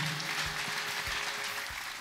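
A church congregation applauds in a steady, dense wash of clapping that carries through the whole short stretch.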